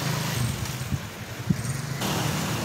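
Road traffic with jeepneys passing by in Gapan, Nueva Ecija, a steady low engine rumble and a couple of brief louder thumps, moderately near with no one talking.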